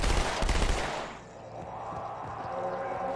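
A burst of rapid SMG gunfire in Halo 2 Anniversary rattles loudly for about a second, then fades into quieter game ambience.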